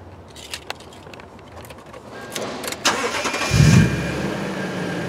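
A 2010 Toyota Tundra CrewMax starting up: a few faint clicks, then the starter cranks and the engine catches with a loud rising roar before settling into a steady idle close by.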